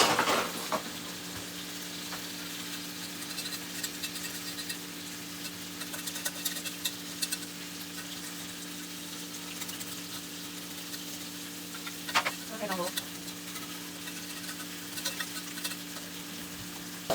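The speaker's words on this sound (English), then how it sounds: "So I'm gonna be whisking the gravy." A whisk stirs gravy for loco moco in a pan at home, faint soft scraping over a low simmering hiss with a steady hum, plus a few brief clinks against the pan.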